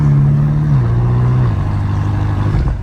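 A loud, close BMW M5 Competition exhaust gives a deep, throaty drone. Its pitch steps down as the revs fall away, then it fades slightly at the end.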